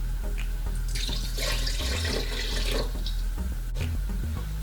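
Water pouring into a bowl of challah dough with egg yolks and malt syrup, a steady trickling splash close by, running for a couple of seconds then tapering off, no voices.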